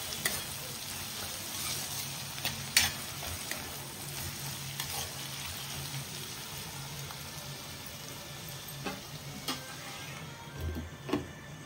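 Onions for an egg curry cook in a covered pan, giving a faint, steady sizzle and soft bubbling throughout, with a few light clicks near the end.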